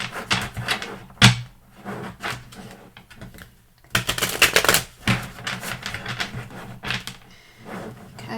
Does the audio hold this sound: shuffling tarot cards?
yes